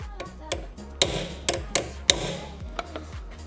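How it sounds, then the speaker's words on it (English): A small metal pry bar taps at a corroded bolt on the rear shock absorber of a Land Rover Freelander 2, making a series of sharp, close metallic knocks in an uneven rhythm. "I'm going to try and tap it round with a small pry bar"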